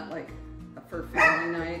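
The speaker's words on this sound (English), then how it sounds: "I don't know if you hear a little barking in the background" An old dog barks and whimpers in the background of a home kitchen, a few short yips and bow-wows heard under someone speaking close by.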